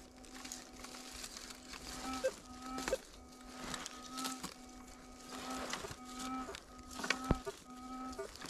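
A metal detector sounds repeated electronic signal tones, short steady beeps in an irregular pattern, faint over outdoor background noise during a field search.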